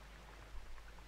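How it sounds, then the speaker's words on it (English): Rain falling as weather in the video game RimWorld, a soft, steady patter with no voices, heard faintly throughout. "this constant rain is making everybody miserable"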